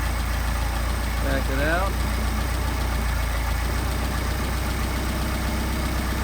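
A Mercedes 190SL engine idles steadily with its Solex carburetors being adjusted, a continuous low running drone close by while someone talks over it briefly.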